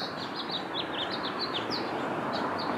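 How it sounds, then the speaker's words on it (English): Birds sing in a backyard, with quick, high chirps repeating steadily at a moderate distance over a soft hiss of outdoor background noise. "Let the voice and the sound of the birds singing guide you"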